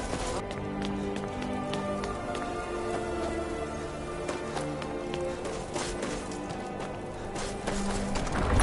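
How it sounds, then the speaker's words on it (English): Horse hooves clip-clop at a quick running pace in the video game Skyrim, with fairly constant rhythmic hits under a background of steady game ambience. "Horses."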